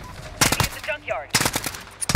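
An AN-94 rifle fires in Call of Duty Modern Warfare in two quick, loud, close bursts separated by a short gap, with a synthetic electronic chirp in between.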